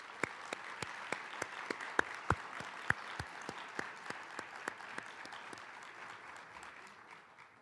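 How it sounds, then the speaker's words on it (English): Sparse, quiet applause at a graduation celebration for an anesthesiologist assistant cohort, with a few distinct sharp claps standing out over steady soft clapping that slowly thins out toward the end. "Let's give them a big round of applause."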